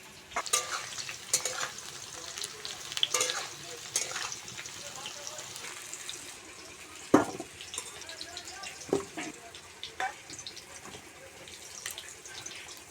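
Potatoes and teasel gourd frying in hot oil in a home kitchen, giving a steady low sizzle broken by scattered clinks and stirring scrapes, with a voice talking over it at times.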